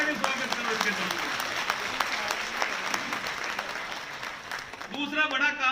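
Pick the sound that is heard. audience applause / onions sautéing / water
audience applause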